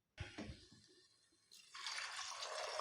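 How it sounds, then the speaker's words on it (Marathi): Water poured into soaked rice for pulao, a steady splashing pour that begins after a few soft knocks and grows brighter and fuller, continuing close and alone to the end. "याच्यानंतर आपल्याला इथं पाणी घालायचं आहे"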